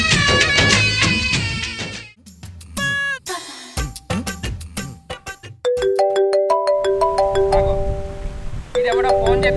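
A mobile phone rings with a melodic electronic ringtone, loud and close, its repeating tones playing in a steady run after a burst of music and sound effects.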